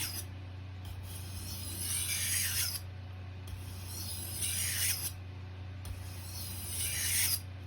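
A kitchen knife is drawn along a sharpening stone in three long, even strokes, each a raspy grinding swell separated by short pauses, close up, with a steady low hum beneath and no talking.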